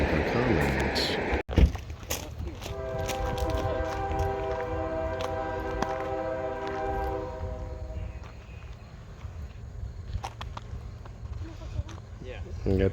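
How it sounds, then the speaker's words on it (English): Norfolk Southern train pulling out of a rail siding at Shenandoah Junction, with sustained horn-like tonal blasts over steady rumbling rail noise in the first half, fading to ongoing wheel and engine rumble; voices talk intermittently. "Finally got the train coming out of the siding down there"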